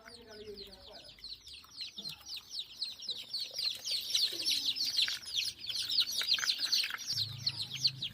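Chickens cluck and chirp steadily in a desi poultry farm while a young bird is handled and given eye drops, busy close calls running throughout with some handling noise.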